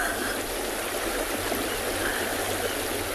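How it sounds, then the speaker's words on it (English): Strong water rushes off a cement river crossing on a South African safari reserve, a loud, steady roar of flowing water heard close up with no voices. "have a listen to how strong the water is flowing, especially here in front of me as it's going off the cement crossing"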